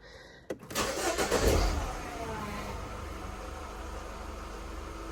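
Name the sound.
Mini Countryman 1.6 petrol engine starting and running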